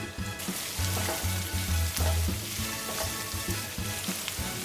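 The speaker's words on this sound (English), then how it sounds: "So in goes 8 green chilies, just slid into half, and finally 5 red onions cut quite fat slices going in as well." Halved green chillies and thick-sliced red onions hitting hot oil in a pan for Goan chicken chilli fry, a loud continuous sizzle with occasional stirring clatter and no voices.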